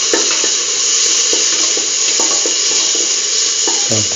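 Tomato pieces sizzling in a hot pan, a dense steady hiss of frying with occasional soft clicks and stirring scrapes, close and continuous.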